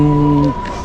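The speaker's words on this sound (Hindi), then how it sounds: "ये ई व्हीकल में से ऐसी आवाज़ आती है।" Pedestrian warning tone from an electric vehicle: a steady, close, humming electronic drone with a few sustained pitches that cuts off abruptly after about half a second, leaving faint background noise.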